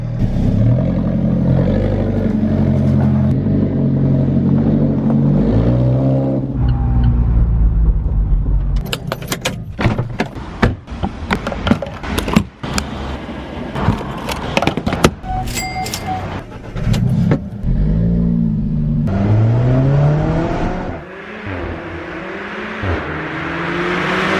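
An Alfa Romeo 4C sports car engine idles and revs, with rattling and clunking noises in the middle, then the engine pulls away with rising revs.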